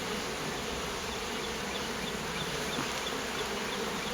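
A dense, steady hum of many honeybees buzzing at the entrance of a very active hive, close and continuous with no pauses.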